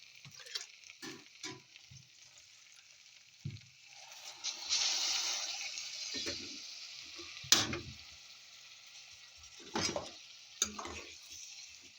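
Water poured into a pan of sautéing bitter gourds, eggplant and paprika, giving a rising hiss and sizzle. Scattered clinks and scrapes of a utensil against the pan come before and after.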